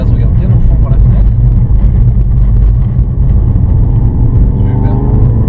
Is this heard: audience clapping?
no